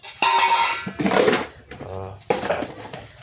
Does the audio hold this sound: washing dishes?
yes